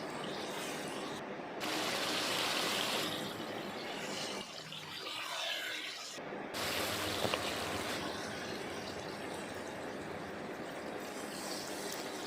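Water poured into a pot of potato and egg curry, a steady broadband rush and gurgle lasting several seconds with brief pauses, close and fairly loud.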